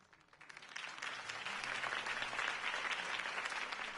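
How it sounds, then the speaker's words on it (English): Steady crowd applause in the Batman: The Telltale Series video game swells up after a quiet start and keeps going, a dense patter of many hands clapping at moderate distance. "could have heard that applause"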